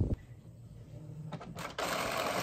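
Printer feeding a sheet of paper that crinkles as it goes through, a mechanical whir with a short clunk, then a louder rushing grind as the feed picks up.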